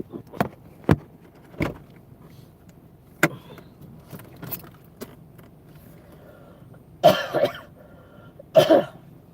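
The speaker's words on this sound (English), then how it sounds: "I don't want to be, coughing and projectiles coming out of my mouth" Several short, sharp coughs in a quiet room, spaced irregularly at first and then two heavier, rougher bursts near the end, with no talk around them.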